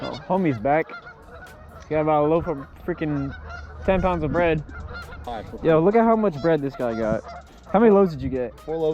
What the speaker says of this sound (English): if you guys hear geese in the background, there's literally nothing I can do about it